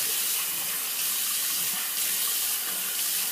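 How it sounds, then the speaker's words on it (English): Tap water runs steadily into a bathroom sink while someone rinses their face, a continuous close splashing hiss with no talking. "So I'm just going to rinse off my face here"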